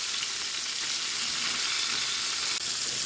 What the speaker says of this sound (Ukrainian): тепер буду макати у мукичку кожен шматочок і смажити